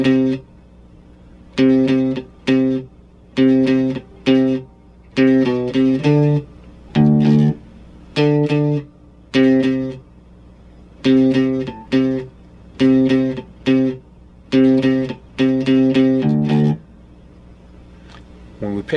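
Slow drop D electric guitar riff, played deliberately at half tempo in clipped, repeating phrases with short gaps between groups of notes, close and clear with no talking.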